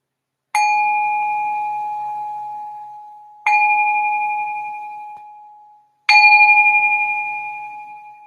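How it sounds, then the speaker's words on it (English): A meditation bell is struck three times at slow, even intervals, each clear ring sustaining and fading before the next. It rings near and loud with no talking. "I'll just ring this bell to signal the start of another meditation."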